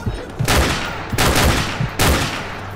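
Gunfire in the video game Call of Duty Modern Warfare Remastered comes as three loud, sustained volleys in quick succession, each a dense burst of rapid shots that trails off before the next.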